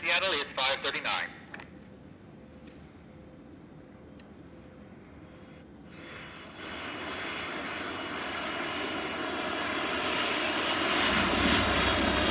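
Airliner engine during landing in a radio drama: a steady rising jet-engine drone builds and grows louder, with a few bright tones at the start and a low rumble at the end.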